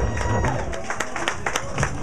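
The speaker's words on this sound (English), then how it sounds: "can we give a hand clap" Audience claps and cheers at a hip-hop event, a dense run of hand claps with crowd noise beneath, fairly close and loud.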